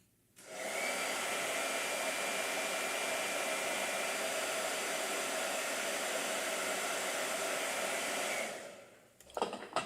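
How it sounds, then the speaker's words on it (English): A hair dryer runs steadily for about eight seconds, drying paint on a cold-press sketchbook page, loud and close with a constant whooshing roar before switching off. "And then blow dryer."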